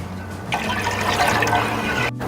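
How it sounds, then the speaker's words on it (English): Purified water, about half a cup, pours into a pot of sugar syrup for cranberry sauce, a close, steady splashing gush lasting a couple of seconds. "I'm going to add an additional 1/2 cup of purified water"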